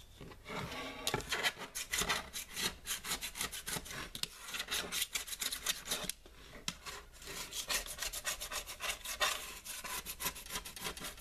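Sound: blade scraping paint off tempered microwave glass palette

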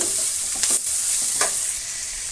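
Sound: tomatoes frying and being stirred in a pan

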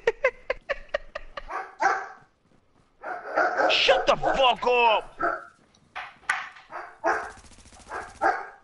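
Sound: dog barking

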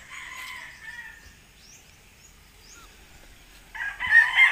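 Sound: chicken crowing

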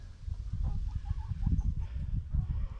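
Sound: chickens (pullets) clucking in backyard

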